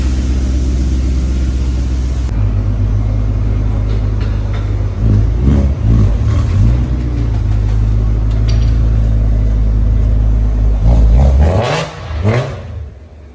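BMW E92 M3 engine revving loudly through a newly installed exhaust, a steady deep idle rumble broken by several sharp throttle blips and a rising rev near the end before it settles, close to the car with no talking.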